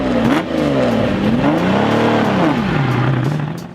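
A Lamborghini Miura sports car engine revs up and down in loud, close sweeps, the pitch climbing, falling and rising again over several seconds.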